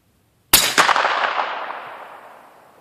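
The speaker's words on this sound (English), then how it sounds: "So still getting a supersonic crack out of it" A single suppressed rifle shot firing a 150 grain Sierra GameKing bullet over a Trail Boss load: a sharp, loud crack with a quick second report, then a long decaying echo fading over about two seconds.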